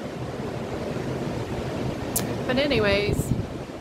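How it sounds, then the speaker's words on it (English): Ocean waves break on the shore in a steady, broad rushing wash that swells slightly louder near the end, while a voice speaks briefly over it. "that's the ocean talking. It's the most relaxing, peaceful thing that I think I've ever heard in my life."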